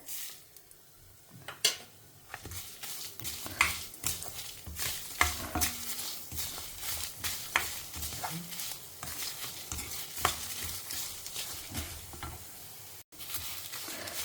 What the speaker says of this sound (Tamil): வத்த மிளகாயும் போட்டுக்கிறேன். இன்னும் நல்லா செவக்க வறுத்துக்கலாம்.